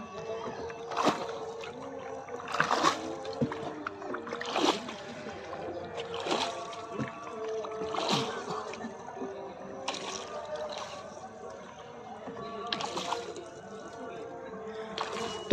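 A wooden shikara boat is paddled on Dal Lake in Srinagar, with soft, rhythmic paddle splashes roughly every couple of seconds over calm water and someone talking nearby.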